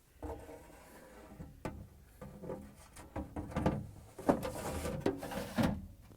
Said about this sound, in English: And then the meat pan goes back in.